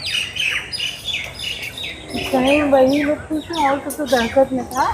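Sparrows chirping and squawking at a busy outdoor spot around the Red Fort in Delhi, with trees nearby; a dense, continuous overlapping chatter of calls at moderate distance, mixed with background voices.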